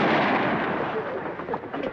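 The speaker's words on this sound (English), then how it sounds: "We're chasing some fellas. They shooting at us." Gunshots ring out at a car during a chase, a loud burst of cracking reports and echoing bangs over a couple of seconds, close and dense.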